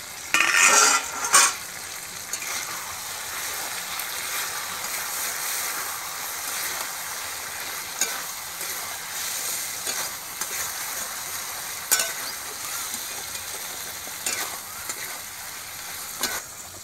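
Fish from a freshly caught haul braising and stir-frying in oil, a steady soft sizzle under occasional clinks and scrapes of a spatula against the pan.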